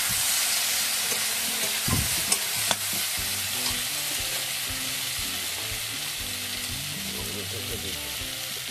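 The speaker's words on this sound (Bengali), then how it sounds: "মশলাটাকে কষিয়ে নিতে হবে।" Spice paste with green chilies sautés in a pan for a mustard parshe dish, giving a dense, even, loud sizzle throughout with a couple of sharp spoon taps and faint tonal sounds underneath.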